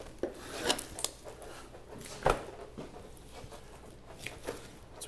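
A butcher cuts through the sirloin end of a pork carcass while breaking off the hams, giving a few close, sharp rasping cuts and one brief loud crunch amid low steady background noise.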